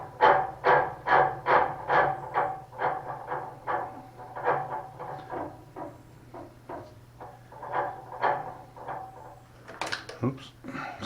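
Sabre 2000 CNC machine's Y-axis ballscrew making a rhythmic series of scraping, knocking pulses as it switches directions, fairly near and moderately loud over a low hum, with a sharper clunk near the end.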